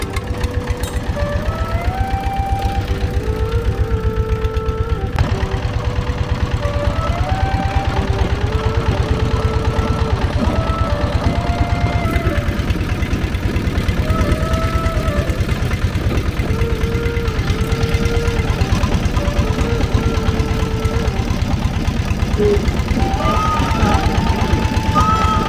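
A motor boat engine on the Jamuna river hums steadily and loudly throughout, a low continuous drone with music playing over it.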